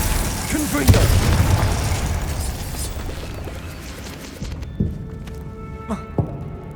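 A Confringo fire spell goes off in the video game Hogwarts Legacy on PS5 with a heavy, booming blast that rumbles away over several seconds. A few sharper thuds and pops follow later.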